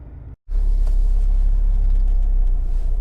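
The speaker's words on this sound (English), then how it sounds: "engine's running" A Honda CR-V 1.6 i-DTEC diesel engine runs in a continuous low rumble after a short silent break, steady and close throughout with no talking.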